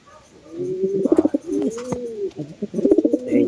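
A pigeon coos repeatedly at close range, soft throaty phrases rising and falling in a loose rhythm with brief pauses.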